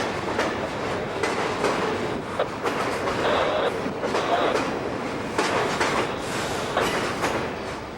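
A Pan Am Railways freight train rolls beneath a road bridge, a steady continuous rumble of wheels with clickety-clack joints and faint squeals, loud and close for the whole stretch with no talk.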